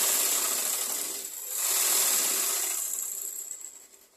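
A sewing machine runs steadily while stitching the armhole seam of a chemise, with a brief dip in its whirring near the middle before the fast mechanical hum resumes and fades at the end; no one speaks.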